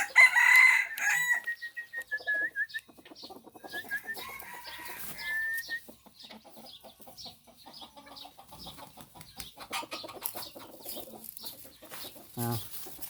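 Hybrid chickens in the evening, a rooster crowing loudly up close at the start followed by scattered clucks and calls from the flock, fairly near with some quieter bird sounds in the background.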